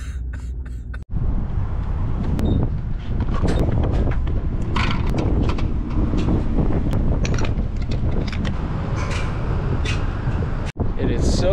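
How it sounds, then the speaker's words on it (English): Strong wind batters an outdoor microphone near a BMW 335i single-turbo car, giving a loud, continuous low roar and buffeting that fills nearly the whole stretch after a short quieter start, with two brief dropouts. "It is so damn windy."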